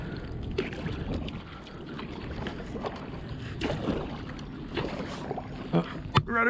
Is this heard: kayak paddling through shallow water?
yes